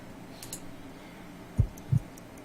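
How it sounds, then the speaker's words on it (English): In a Sherlock Holmes video game, a slow, weak heartbeat of around 50 beats per minute sounds as two dull, low thumps spaced a moment apart against a faint quiet background. "I need to concentrate and count the heartbeats."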